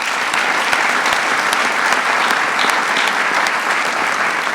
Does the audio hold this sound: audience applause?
yes